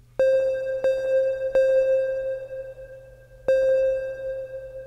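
A synthesizer MIDI note with reverb in FL Studio sounds four times, each a clean, sustained electronic tone with a sharp onset that rings on and fades into a soft reverb tail, alone and fairly quiet.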